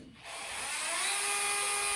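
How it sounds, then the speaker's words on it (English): A 5 mm drill bit boring into a Lego Technic brick, a whining power tool that spins up within the first quarter second and then holds a steady, close, high-pitched drone; no speech. "So that's a 5 millimeter drill here."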